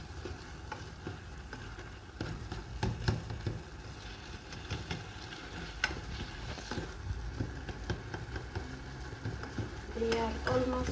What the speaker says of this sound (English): the tomatoes are burning here